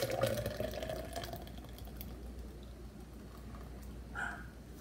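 Pineapple chia juice pours into a jug in a soft, steady liquid trickle, faint and close, with a brief gurgle near the end.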